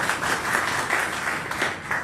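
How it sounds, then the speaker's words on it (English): Steady applause from a crowd, a dense wash of clapping that continues evenly throughout. "hold for applause. You guys can keep going."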